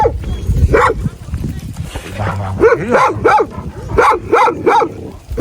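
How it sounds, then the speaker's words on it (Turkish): Several flock guardian dogs bark and yip in quick, overlapping bursts nearby, loud and excited, with a voice talking at moments among them. "Burada dört köpek vardır."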